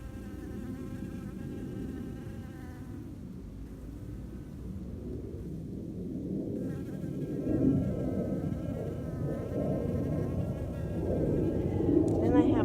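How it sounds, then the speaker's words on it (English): A bee buzzes steadily in a garden among petunias and dahlias, a continuous close drone that swells louder toward the end with no talking over it. "Oh, there's a bee."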